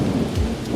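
Heavy rain with rumbling thunder as a sound effect, a brief dense wash of rainfall and low rolling rumble, loud and continuous throughout.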